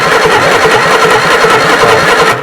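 A Reliant Super Van engine turns over and runs, a loud, continuous rough mechanical churn with a pulsing beat that holds steady for the whole stretch and eases off at the very end.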